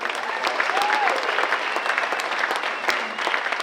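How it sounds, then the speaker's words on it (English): An audience at a live Thursday poetry show in a college room applauds steadily, a dense wash of clapping with a few sharper individual claps standing out and a faint whistle early on. "will you guys give them applause?"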